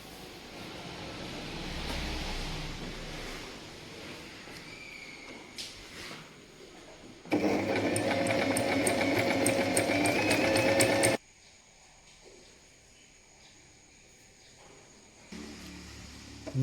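A Singer Simple 3223 sewing machine stitches in a steady, fast, rapid mechanical whirr for a few seconds amid quiet room noise, with softer handling clicks before and a faint resumption near the end.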